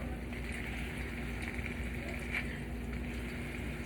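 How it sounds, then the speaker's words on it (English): A burger patty frying on a hot surface for homemade In-N-Out style burgers, giving off a steady, moderately loud hiss and sizzle with fine crackles throughout, over a constant low electrical hum. "It's gonna start sizzling."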